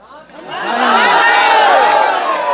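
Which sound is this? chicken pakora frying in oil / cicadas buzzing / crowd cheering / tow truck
crowd cheering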